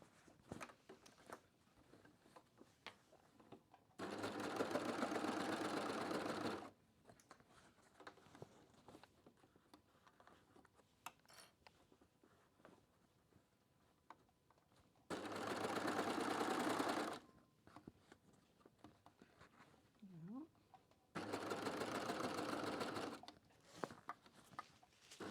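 A Baby Lock Acclaim & Primo machine sews a flounced tote bag in three separate bursts of steady, close whirring stitching, each a couple of seconds long, with quiet handling of fabric between them.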